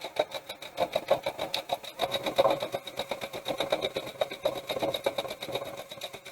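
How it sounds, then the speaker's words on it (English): A sewing machine runs a quarter-inch seam with steady rapid needle clatter, speeding and slowing in short bursts, close and fairly loud with no talk. "You can just go ahead and sew right along."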